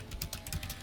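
Rapid clicks of typing on a computer keyboard sound close and distinct, with irregular keystrokes in quick succession and no speech.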